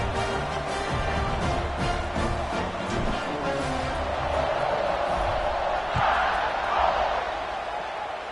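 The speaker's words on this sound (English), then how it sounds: "this crowd is buzzing after that last score" Stadium crowd in a College Football 26 game, Texas at Alabama, a steady loud roar and buzz of spectators after a kick-return touchdown, with a broadcast commentator talking over it.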